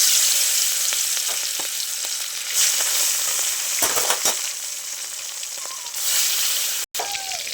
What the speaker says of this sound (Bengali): তেলটা গরম হয়ে গেছে, এবার মাছগুলো ছেড়ে দেবো।